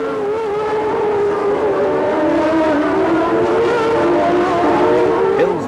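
Formula One cars of 1994 howl together as the pack climbs the hill toward Casino Square at Monaco, a steady, loud layered engine scream with rising and falling pitches and no pause.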